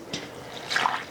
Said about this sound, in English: And now we're going to add our liquid.